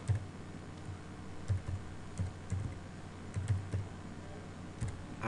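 A username and password are typed on a computer keyboard, with quiet, close keystrokes in short irregular bursts and separate clicks, and no talk.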